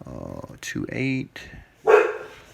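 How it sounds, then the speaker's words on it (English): A dog barks in the background of a home, several short bursts under a person calmly counting out numbers close by. "sorry about my dog in the background"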